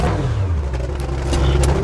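A Lamborghini engine runs loud and close, its steady, heavy roar swelling as it revs, with a few sharp clatters on top.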